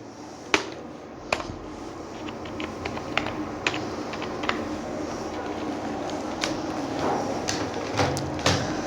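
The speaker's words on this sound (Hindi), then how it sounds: "इसमें हम लोग टाइप करेंगे नोटपैड," Crisp clicks and taps of a computer keyboard come in an irregular run, with a few sharper key strikes standing out against a low room hiss.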